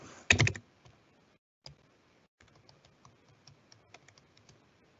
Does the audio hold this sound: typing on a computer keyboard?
yes